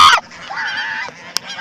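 Ducks, fleeing in a village setting, give a loud nasal honk at the start followed by a drawn-out lower call and a short sharp squawk, close by, with no speech.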